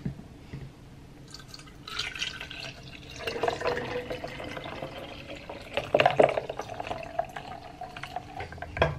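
Iced coffee and creamer poured at once into a cup, a steady liquid trickle with drips and splashing that grows busier and louder toward the end, no talking.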